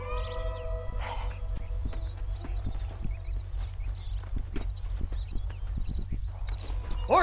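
Horses clip-clopping along in the video game Red Dead Redemption, a series of light, uneven hoof taps over a low rumbling background, with a high tonal sound near the start and a voice calling out at the end.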